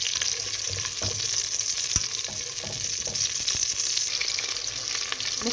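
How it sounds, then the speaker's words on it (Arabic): Onions sautéing in oil in a pan, a steady close sizzle and crackle with occasional scrapes and stirs, no voices. "اشوح بس البصلات كده اهو"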